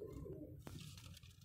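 Captive pigeons give soft, low coos close by, a faint murmuring call with a brief knock partway through over quiet background hiss.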